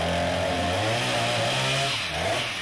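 A chainsaw drones steadily with a buzzing, harmonic engine tone, holding close and loud before its pitch drops and wavers near the end, on a film set where it cuts into a prop body.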